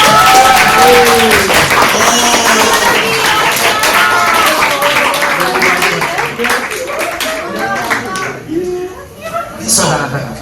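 A classroom audience at a public speaking and presentation event claps together in a steady, close burst of applause with voices and a few laughs mixed in, thinning out near the end.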